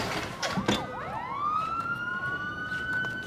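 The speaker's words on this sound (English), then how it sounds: "That sounds like a lot of sirens, doesn't it?" Multiple sirens sound at once, with quick swooping yelp sweeps at first that settle into long, steady overlapping wails, moderately loud and continuous with no talking.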